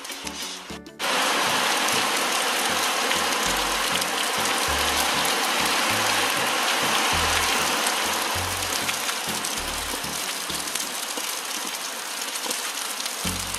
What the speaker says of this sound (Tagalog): tumila ka na ulan